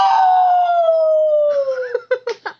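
A dog gives a long falling howl that breaks into several short, sharp barks at the end, loud and close with no talking over it.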